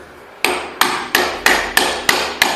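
A hammer drives a nail into a wall with seven sharp, evenly spaced blows, loud and close with short ringing decays and no talking.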